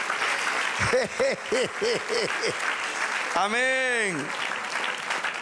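Congregation in a church breaking into sustained applause, a steady wash of clapping under a voice intoning short rising-and-falling phrases and a drawn-out call.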